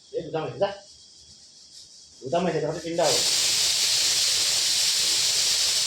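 A pressure cooker full of Nepali-style cut mutton bursts into a loud, steady hiss of escaping steam that runs unbroken to the end, after someone speaks briefly over quiet kitchen background.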